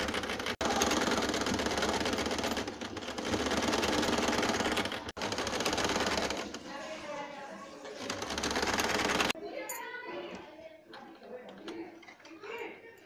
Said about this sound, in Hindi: हम सिलाई लगा लेते हैं अपने बाजू पे भी और अपने बॉडी पार्ट पे भी।